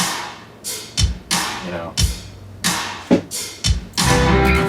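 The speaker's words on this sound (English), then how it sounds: "the drums just kind of like chilling on the rim of the snare. It's not actually hitting the snare. It's just doing that rim hit." Sharp rim hits on the rim of a snare drum in a rock song, landing roughly once a second over sustained music with a steady rhythm.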